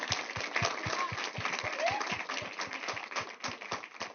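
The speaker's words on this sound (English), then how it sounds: "Please give yourselves a round of applause" Kids applaud themselves at a school board meeting, rhythmic unison clapping in a steady beat, heard quietly with crowd murmur and a few high voices.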